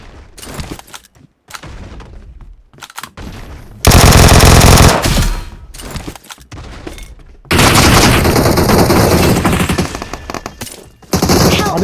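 Automatic gunfire rattles in a BGMI battle royale match, loud bursts of rapid fire with short gaps, then long sustained volleys.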